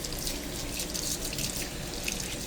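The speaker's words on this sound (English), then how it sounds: "get my hand rinsed up there" Water runs steadily from a faucet into a sink as hands are rinsed under the stream, a continuous close splashing hiss with no talk.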